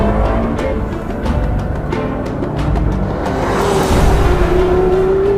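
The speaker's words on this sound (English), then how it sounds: "One of the freest revving engines I've ever experienced." Porsche Carrera GT engine revving freely, loud and close, with throttle blips and a rising tone over road and tire noise as the car drives by.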